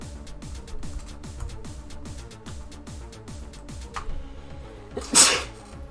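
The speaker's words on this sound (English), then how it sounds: "I sneezed." A single sharp, loud sneeze bursts out near the end, standing above steady rhythmic background music during a gaming session.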